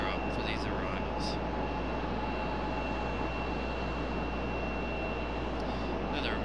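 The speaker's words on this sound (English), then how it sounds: "Another American A319." An American Airlines A319 arriving, a steady broad engine roar that holds evenly throughout without fading, with faint talk underneath.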